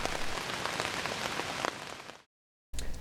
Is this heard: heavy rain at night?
yes